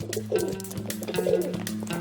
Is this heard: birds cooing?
yes